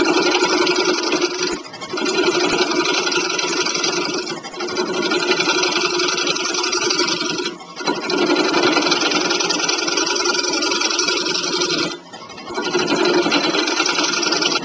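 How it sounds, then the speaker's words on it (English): Wood lathe turns a bowl while a 3/8 inch bowl gouge cuts, giving a steady, loud droning whir that runs continuously with brief dips every few seconds as the tool lifts off. "I start the lathe at a slow speed and kind of go to see where I get."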